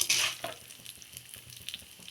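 Urad dal frying in a small pan, with a brief crackling burst at the start that settles into a low, steady sizzle and a few faint stirring scrapes, close and quiet.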